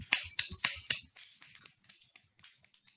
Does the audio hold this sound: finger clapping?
yes